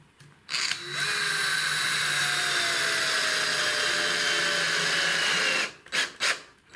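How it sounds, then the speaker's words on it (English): A cordless drill fitted with a screwdriver bit runs at low speed, driving a screw through a skirting board into the wall. One loud, steady whirr lasts about five seconds and ends in a few short bursts as the screw tightens. "put in my normal screwdriver bit in the drill and set the drill on a lower speed onto number 1"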